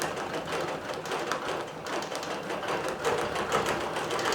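A digital quilting machine stitching a quilt drones with a steady, fast mechanical rattle and whir, close and even throughout, with no voices.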